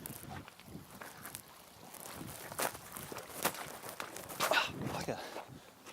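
Footsteps wade and splash through shallow water in strong wind, a string of soft, irregular close steps over gusting wind noise.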